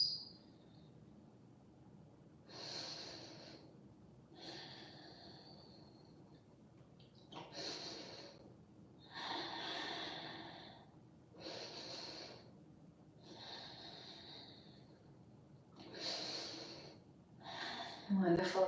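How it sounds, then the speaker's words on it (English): Slow, deep yoga breathing, long airy inhales and exhales in regular swells roughly every two to three seconds, close and soft with quiet gaps between. "Nice big breaths in. Long and smooth breaths out."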